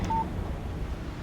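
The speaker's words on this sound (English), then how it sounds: "Text message from Barry" A single short, clean electronic beep sounds as a phone text message alert in the video game Alan Wake Remastered, then low ambient hum continues.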